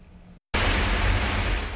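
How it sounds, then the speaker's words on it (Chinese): Heavy afternoon rain on a hot day falls as a dense, loud, continuous hiss after a brief gap, following a quieter opening. "午后一阵大雨为好热的天气降降温"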